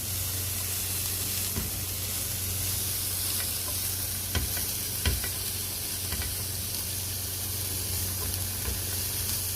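Shredded boiled chicken, seasoned with salt and chillies, sizzles steadily in a hot pan while a spatula stirs and scrapes it, with a few sharper clinks and a constant frying hiss close by, no voices.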